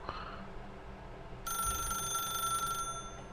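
In The Stanley Parable, a telephone rings with a bright electronic bell tone that sounds once for about a second and a half over a low, quiet ambient hum.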